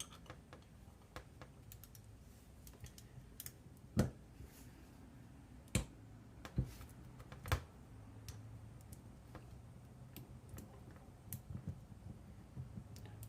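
A torque wrench tightening a bolt on a Predator 212 engine build, giving a few sharp isolated clicks spread over quiet, low background noise.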